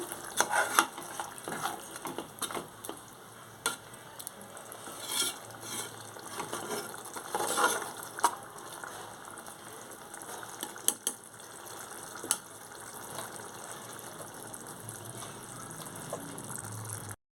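Water poured into a hot frying pan sloshes and sizzles as it is stirred, with scraping and splashing bursts over a steady frying hiss.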